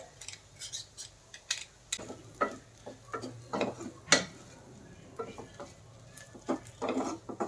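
Garlic going into turmeric roasting in ghee, stirred in a pan with a spoon: irregular scraping and clinking strokes over a faint low sizzle, close and moderately loud, with no voice.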